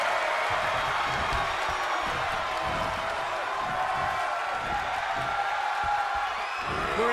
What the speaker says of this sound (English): The sound of this crowd is deafening, and he's asking for more.